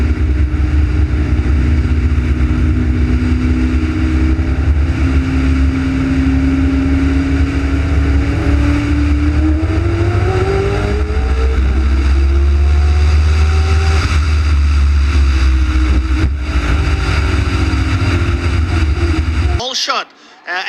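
Racing cars on a circuit accelerate out of the Pertamina corner, their engines rising and sweeping past in a loud, continuous roar while a commentator talks excitedly over them.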